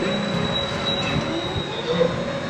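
The Runaway Mine Train roller coaster at Cultus Lake Adventure Park rumbles along its track with a loud, steady rolling roar, a thin high whine running through it.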